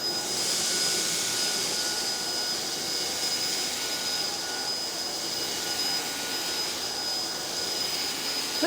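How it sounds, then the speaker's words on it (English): A Hoover ONEPWR Emerge cordless vacuum runs steadily on its lowest setting, picking up oatmeal. It makes a close, continuous whirring hiss with a thin high whine that holds level throughout. "Lowest setting, let's see how the Hoover."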